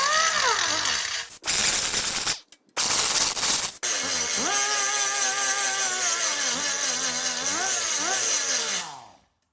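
An angle grinder dresses welds on the hood scoop of a Wheel Horse 875 tractor, screaming loudly in long runs with pitch dips as it bites the metal and a few brief stops between passes.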